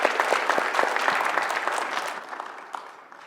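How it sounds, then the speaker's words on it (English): A short, lively round of clapping from a crowd at a neuroscience festival honors graduate students, dense and close at first, then thinning out and fading near the end. "let's give them a round of applause"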